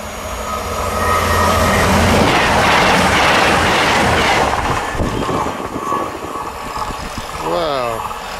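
A heritage steam train rushes past close by, a loud rising roar with rattling wheels that fades into clattering and a squealing screech near the end.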